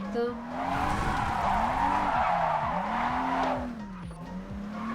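A JDM car drifts with sustained, loud tire squeal that wavers in pitch as the angle changes, over a steady engine hum, continuous for nearly the whole span.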